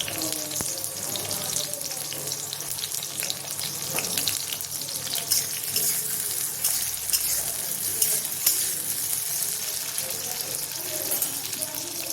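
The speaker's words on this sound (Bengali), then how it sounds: "সব থেকে আগেই মশলাগুলোকে ভেজে নেবো" Whole spices crackling in hot oil for a mushroom and potato curry, a continuous dense sizzle with scattered pops and faint clinks, fairly close and even throughout.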